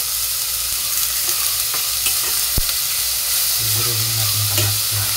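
Tomatoes sautéing in a pan, a steady bright sizzle with occasional stirring scrapes and clicks, close and continuous.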